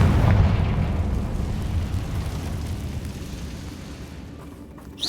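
A Confringo blasting spell detonates in Hogwarts Legacy, a loud low booming burst at the start that rolls into a long rumbling decay fading over several seconds.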